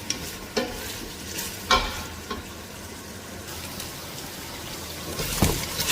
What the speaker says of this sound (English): So let's keep sauteing until it browns.